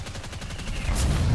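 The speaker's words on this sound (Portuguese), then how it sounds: "Errou o tiro do bazuca." A bazooka fires in a plastic toy-soldier warfare video game, a dense burst of rapid gunfire-like blasts that swells into a louder booming rumble at the end.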